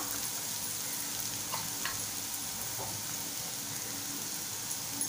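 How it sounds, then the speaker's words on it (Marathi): Tomatoes softening in a hot pan for Malvani-style whole masoor amti, giving a steady low sizzle with occasional faint stirring ticks throughout. "टोमॅटो आपल्याला छान नरम करून घ्यायचा आहे। परतवून घेऊया।"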